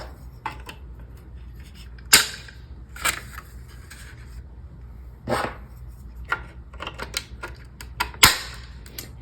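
Small 3D printed plastic extenders are pushed into the holes around a circular sock machine casing, making a series of sharp, close clicks and taps at irregular intervals with quiet gaps between them.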